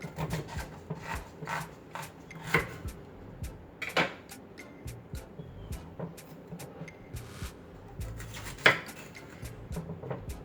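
A knife cuts through cauliflower on a board in a kitchen, giving a scattered series of soft crunches and sharper chops with quiet rubbing in between, close and fairly faint.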